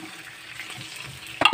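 Broth poured into a sizzling frying pan, a continuous close hiss with a brief burst of louder splashing sizzle at the end.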